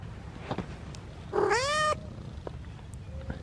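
A kitty gives one clear, rising meow up close, with no purr evident, standing out briefly against quiet low rumble around it.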